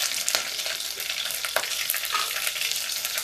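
Green chilies fry in hot oil with mustard seeds and cumin while being stirred, giving a close, dense, continuous sizzle broken by small spatters and scraping clicks.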